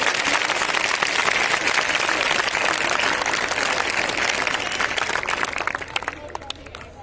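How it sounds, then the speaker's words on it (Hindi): An audience at a school award ceremony gives loud, sustained applause to welcome special guests, a thick wash of clapping with crowd murmur beneath that tapers into a few last claps. "एक बार जोरदार तालियां हो जाए हमारे विशिष्ट अतिथियों के लिए"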